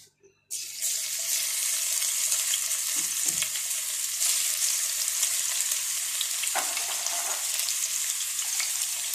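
Garlic and ginger dropped into a hot frying pan, a sudden loud sizzle that bursts in after a short quiet moment and holds steady, with a few stirring scrapes, no voices.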